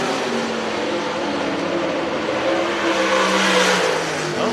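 Race cars circling a dirt track during a heat race, a steady loud engine roar heard from a distance with some rising and falling as the cars come through a turn, no speech.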